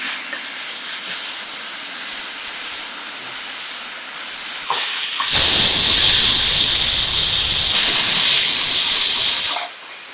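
Shallots sautéing in a pan for Sultan beef, a soft hiss at first that breaks into a loud, close sizzle halfway through, holding steady before dropping away near the end.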